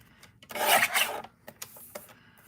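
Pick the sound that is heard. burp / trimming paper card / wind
trimming paper card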